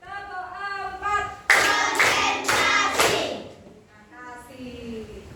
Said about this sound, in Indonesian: Bertepuk dulu ya.